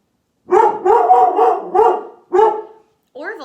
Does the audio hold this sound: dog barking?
yes